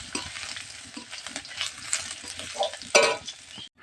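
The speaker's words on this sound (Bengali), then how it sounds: "আমি এখানে আদা বাটা দিয়ে দেব, তেজপাতা দিয়ে দেব। এটাকে আমি নাড়তে থাকবো।" Ginger paste and a bay leaf fry in hot oil while being stirred, a steady crackling sizzle with scraping spoon strokes, loudest near the end.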